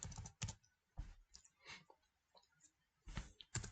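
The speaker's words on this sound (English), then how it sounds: "Now we are going to try typing the message hello properly." Keyboard typing on a computer, a few quick bursts of clicky keystrokes with short pauses between them, close and fairly faint, with no talking.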